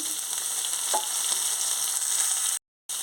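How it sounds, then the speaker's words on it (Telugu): Tomatoes added to a hot pan over ginger-garlic paste for a ridge gourd and bean seed curry sizzle with a steady, close hiss that cuts out abruptly near the end, with no talking. "ఇప్పుడు టమాటీలు వేసుకుంటున్నాను"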